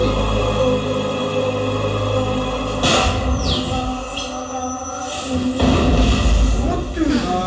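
A bomb blast in a video game, a sudden booming thud cutting through game music, followed by whooshing and swirling effects and a second impact, with talk in the background.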